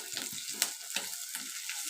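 Onions sautéing in a clay pot for chicken gravy, a soft sizzle broken by several quick, rhythmic stirring scrapes.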